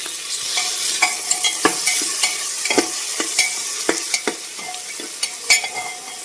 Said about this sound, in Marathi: कांदा चांगला परतला